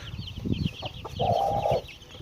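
A yellow hen with her chicks, let outside for the first time, gives a few close soft clucks and one drawn-out call, with faint higher peeps around her on a sunny day.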